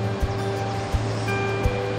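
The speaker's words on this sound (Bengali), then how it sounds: "এই আসছে এদিক থেকে কাফরি নদী আসছে" The Kafni river rushes through a Himalayan valley on the Pindari Glacier trek, a constant broad roar of flowing water heard alone at an even, fairly loud level.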